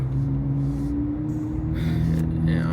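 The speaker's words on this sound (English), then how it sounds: "The car's so loud." A loud car engine rumbles steadily close by, holding a deep, constant drone for a few seconds with a slight rise in intensity toward the end.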